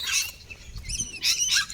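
Small birds chirp and tweet at a lake, two bursts of high, bright calls separated by a short pause, moderately close and heard without talk.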